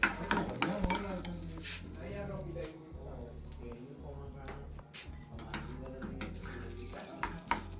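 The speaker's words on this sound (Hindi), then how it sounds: "आज मैं बना रही हूँ साग को तड़का लगा रही हूँ।" Spinach greens sizzle in hot oil while a spoon stirs and scrapes the pan during tempering, fairly quiet, with a voice faintly audible in the background.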